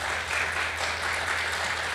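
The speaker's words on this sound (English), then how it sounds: "Now let's give them all a round of applause" A brief burst of steady audience applause at a children's model and talent showcase, even and continuous from start to finish.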